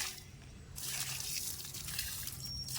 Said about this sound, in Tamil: கழுவுன தண்ணியை நான் இப்போ வந்து செடிக்கு ஊற்றுறேன்